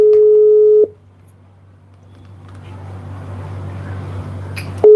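A telephone line gives a steady busy tone for just under a second, then a lull with low background hum and rising noise, and the tone returns briefly at the end while someone tries to reach a participant by phone.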